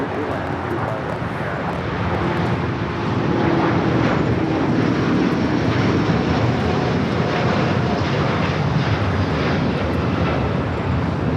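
A United Airbus A320 lands on runway 25 Left at LAX, a loud sustained jet roar that swells after a few seconds and holds steady, with wind noise and a voice talking over it.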